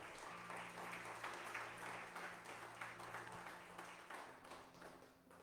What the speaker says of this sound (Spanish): ¿Cuántos le pueden dar palmas al Señor?